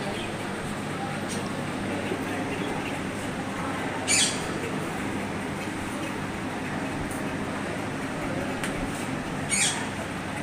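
A couple of sharp bird squawks stand out over a constant noisy indoor background with faint murmuring, in the pet care section of Lulu Mall, Ernakulam.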